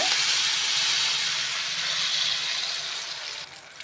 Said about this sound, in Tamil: ஒன்றரை கப் தண்ணி இதில் ஆட் பண்ணிக்கோங்க